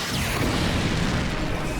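A missile explosion in a sci-fi action film: a dense, sustained roaring blast that fills the whole short stretch at steady loudness, with no voices over it.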